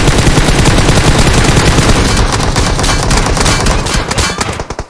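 Gunfire in the PUBG Mobile video game comes as loud, dense automatic bursts rattling continuously, then thinning and fading toward the end.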